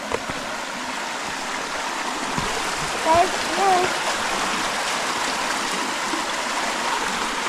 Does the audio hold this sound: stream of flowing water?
yes